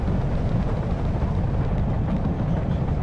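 A roaring fire blaze in the game Blackwood Crossing, a steady, dense, low rumbling crackle that fills the space continuously with no speech over it.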